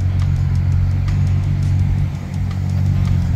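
A big-power Toyota Supra idles smoothly nearby, a loud, steady, deep engine rumble that holds even throughout with only a slight dip near the end.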